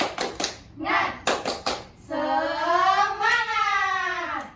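A class of young students doing a rhythmic spirit clap, with a few sharp claps in a patterned beat followed by children's voices chanting together in a long sustained call.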